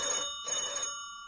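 A telephone rings with an incoming call, two short bright electronic bell bursts close together, clear and alone before it fades.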